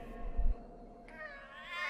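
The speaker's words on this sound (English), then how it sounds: "Angry kitty noises." A cat in a video game lets out a drawn-out, whiny, angry meow, moderately loud against a quiet background hum, with no talking.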